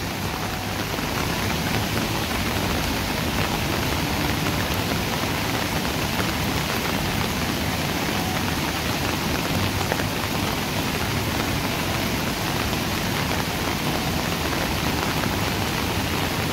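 A heavy downpour lashes the Konkan countryside beside the flooding Kajali river, a loud, continuous roar of rain with no break, heard on its own.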